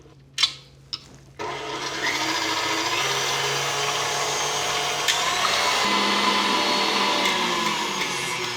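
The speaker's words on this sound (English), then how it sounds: "All we need to do is beat 4 egg whites until they hold stiff peaks." An electric mixer whips four egg whites toward stiff peaks, a loud continuous high whirring hum that starts after a couple of brief clatters and runs steadily to the end.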